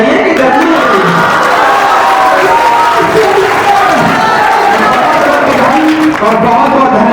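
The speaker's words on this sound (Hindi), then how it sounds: "ताली जोरदार थोड़ा बजाइए" A large outdoor crowd at a political rally in Ambedkar Nagar roars and claps, a loud dense wash of cheering and applause that runs the whole time with voices mixed in.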